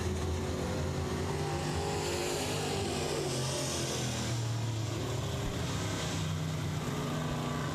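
Dirt late model race cars, older models, roaring around the I-37 Speedway track in Texas, a steady loud engine drone with rising and falling revs and no voices.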